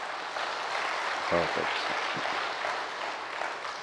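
An audience claps loudly in a large hall, a dense, sustained wash of applause that runs throughout, with a brief voice speaking over it.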